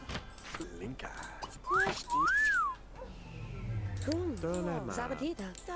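A sharp, sweeping whistle aimed at a character inside a video game, rising and falling in a clear tone amid game sounds and nearby talking voices.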